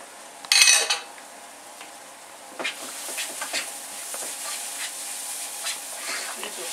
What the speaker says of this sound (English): Add the crayfish to it. Continue to fry it.